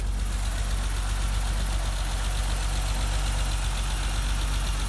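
A 1988 BMW 325 sedan idling just after a cold start, a steady, even engine hum with a faint ticking rhythm, recorded close and running alone.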